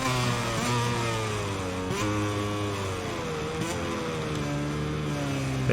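KTM race motorcycle engine in the MotoGP 22 racing game at COTA, revving and shifting through gears with rising and falling whine, loud and continuous.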